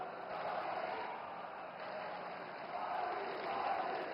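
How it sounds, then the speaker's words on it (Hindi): Audience applause at a live public ceremony in Itanagar, a steady wash of clapping from a large crowd, held at an even level for several seconds. "बहुत ही जोरदार तालियां देवीय सज्जनों।"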